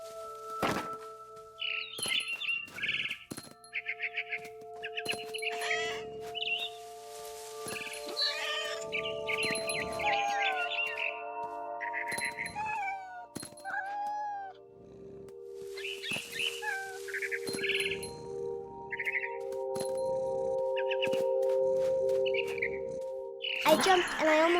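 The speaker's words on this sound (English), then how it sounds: "It was a barn swallow going back to her nest." A barn swallow in What Remains of Edith Finch gives scattered warbling chirps and twitters, mixed with thuds, clicks and steady tonal ambience from the game.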